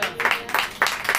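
Congregation clapping hands in rhythm during a Hindi church worship service, a few steady bursts of claps close by.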